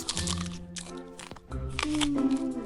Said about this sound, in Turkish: Nasıl kıtır kıtır yedi karpuzu.